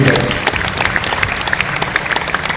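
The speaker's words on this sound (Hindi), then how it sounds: "एक बार जोरदार तालियां हो जाएं" Loud audience applause at a convocation ceremony of an occult sciences institute, a thick wash of clapping filling the hall across the short stretch.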